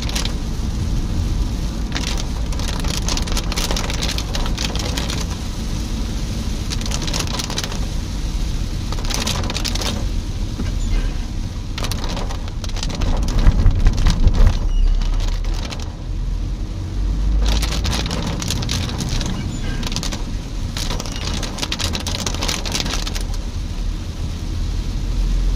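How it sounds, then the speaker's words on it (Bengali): Heavy rain falls steadily during a road trip by car from Siliguri toward Sevoke past Bengal Safari, a dense continuous wash mixed with road and vehicle rumble, with brief louder surges partway through. "প্রচন্ড বৃষ্টি পড়ছে"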